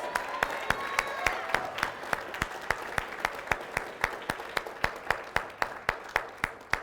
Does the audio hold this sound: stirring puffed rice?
no